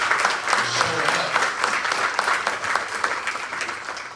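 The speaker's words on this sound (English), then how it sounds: "let's give a round of applause for being here in this space and showing up" Audience applause at a packed event on young adults leaving foster care: close, steady clapping from many hands that fades slightly toward the end.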